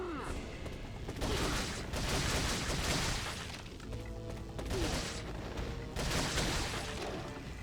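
Gunfire aimed at enemies in Resident Evil 4 comes as loud, repeated blasts in bursts with echoing tails, mixed with crashing impacts from the game.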